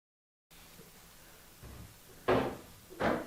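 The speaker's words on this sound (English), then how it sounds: "opening up a cooler." A cooler opened in a home kitchen, giving two fairly loud, short scraping clunks of a lid or latch about a second apart after some quieter handling, with no talking.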